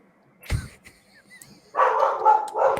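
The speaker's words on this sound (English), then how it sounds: "your dogs were barking" Dogs barking indoors, a single sharp bark near the start, then a few scattered yips and a burst of louder repeated barking toward the end over a quiet background.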